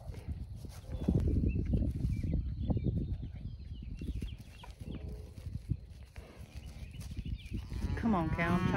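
Cattle on a farm low repeatedly at close range, deep moos swelling over rustling movement, with a voice also talking nearby.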